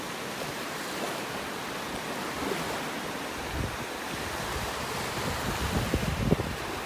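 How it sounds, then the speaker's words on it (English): A light breeze blows across a beach in North Naples, Florida, giving a steady, soft rush of wind noise over faint surf, with no one speaking. "with this little breeze blowing, it feels a bit cooler than that"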